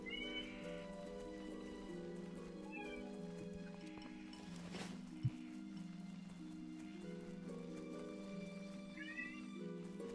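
A pet cat gives several drawn-out meows, near and clear, over a steady droning game background with occasional hoof-like clops.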